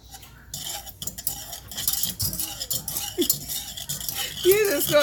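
A spoon scrapes and clinks against a pot as salted butter is stirred, with scattered rattles and taps at close range while a voice speaks now and then.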